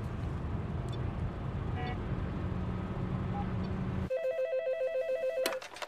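A telephone on a French police drama set rings at the end, with a clear electronic trill pulsing in regular bursts, after a stretch of dense background noise and voices.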